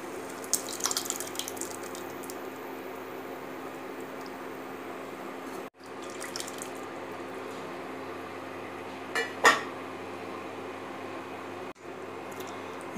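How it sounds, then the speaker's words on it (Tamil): Sambar simmers steadily with watery bubbling, with a few light clinks early on and a short splash near the end as lentils are added. "இப்போது பருப்பு சேர்த்து விடலாம்."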